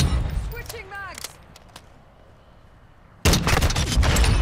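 Gunfire in a Call of Duty multiplayer match erupts as a loud rapid burst of shots at the end, following quieter game effects, scattered clicks and a brief lull.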